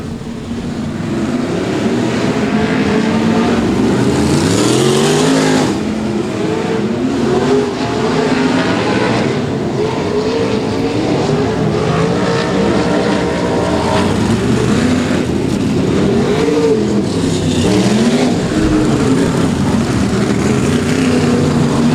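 Limited sprintcars race around a track, their loud engines roaring and rising and falling in pitch as the cars pass and accelerate, a continuous dense drone with no talking.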